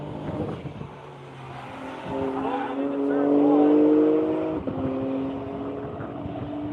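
Race car pulls away with a brief spin of the wheels. The engine note climbs loud and close, then drops back and builds again, with a commentator talking over it.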